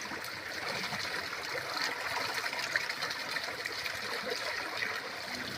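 Water runs steadily to rinse out a bamboo tube used for cooking rice, a continuous close splashing trickle without pause.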